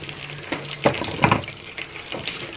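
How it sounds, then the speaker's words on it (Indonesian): Water pours into a cooking pan of stir-fry with oyster sauce, a close splashing and gurgling with uneven bursts over a faint background sizzle, no talking. "Kasih air. Masuk air."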